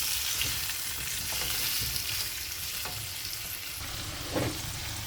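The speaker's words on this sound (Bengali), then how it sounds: "আর এই সাইডে আমি পটলটা ভেজে নিতে আসি।" Pointed gourd (potol) frying in a pan beside a beef and cashew curry, with a steady, continuous sizzle and crackle and a few soft stirring scrapes, fairly close and with no voices.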